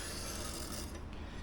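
A knife blade rasping steadily across a sharpening stone, a continuous close scraping stroke with no talk.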